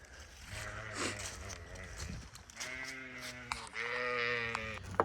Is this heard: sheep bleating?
yes